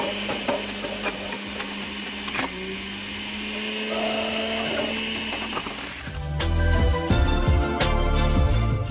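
A powerful juicer tears through lemons, a tangerine, a tomato and a lime with their skins on, giving a loud, steady motor whine with grinding and knocking that grows heavier and rougher toward the end, with no talk.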